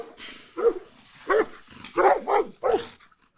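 Police special operations dogs and tracking dogs barking at a training center, a series of sharp barks spaced across a few seconds, fairly close and clear with no talk over them.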